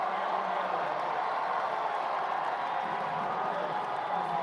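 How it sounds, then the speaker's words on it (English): A packed arena crowd at a women's college basketball conference championship game, Bryant against Mount St. Mary's, roars and cheers in a dense, sustained wash of noise with no clear voices standing out. "And the crowd's going to come to life here."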